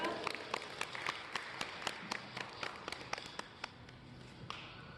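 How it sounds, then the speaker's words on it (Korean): Sparse, distinct claps ring out at a community academic forum, a small audience clapping in a loose, fairly regular rhythm for several seconds, quiet and slightly distant. "박수로 맞이해 주세요"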